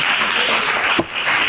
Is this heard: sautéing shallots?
no